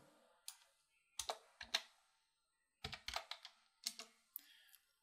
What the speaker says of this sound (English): And I'm going to type in the X position that I want.